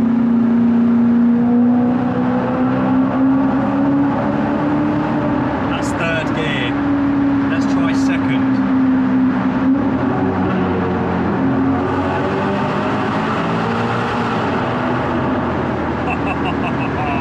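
A Maserati Quattroporte with a Ferrari-derived engine and aftermarket exhaust, heard in sport mode with the windows cracked, gives a sustained loud engine drone that rises and holds, with someone talking over it.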